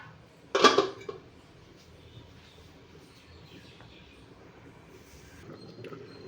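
A lid set onto a cooking pot, a single brief close metallic clank with a small rattle, then quiet low room noise.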